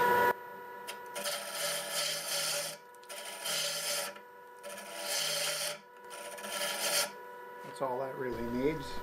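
A half-inch bowl gouge cuts a segmented wooden ring spinning on a lathe at 850 RPM, producing rasping, hissy scraping strokes in several long passes over a steady motor whine.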